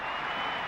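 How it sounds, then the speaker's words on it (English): A 1987 rugby league crowd at a Balmain match roars and applauds after a successful goal kick from about 20 metres in from the sideline, a steady broad wash of cheering. "the crowd erupt in front of us here with streamers and bits of paper being thrown in the air"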